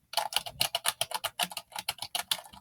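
Someone types fast on an ONN keyboard, giving a close, crisp run of clacky keystrokes in an irregular, rapid rhythm with brief gaps between bursts.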